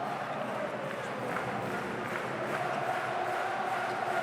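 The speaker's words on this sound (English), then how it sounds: "So the crowd increasing their volume here" A basketball arena crowd during the 2022-23 EuroCup final between Gran Canaria and Turk Telekom, a steady, dense roar of many voices that builds slightly in volume toward the end.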